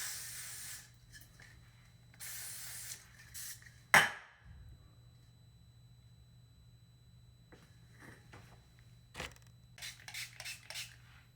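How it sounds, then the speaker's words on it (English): A Got2b hairspray can runs empty in short, sputtering hissy bursts, separated by quiet gaps. A sharp clack lands partway through, and a quick run of weak puffs follows at the end. "that's the end of the Got2b spray"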